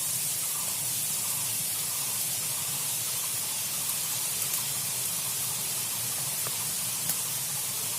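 Bhujia dough squeezed from a bottle and frying in hot oil, a steady, dense sizzling hiss that holds even and close throughout without a pause.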